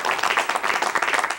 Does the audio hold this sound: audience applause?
yes